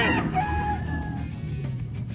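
A breeder rooster crows once at a pet market in Baliwag, a near, hoarse rising-and-falling call lasting about two seconds over faint background murmur.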